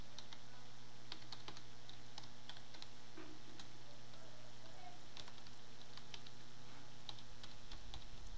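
Someone types on a computer keyboard while working in marble race software: a faint, irregular patter of key taps over a steady background hum, with quiet talk at times.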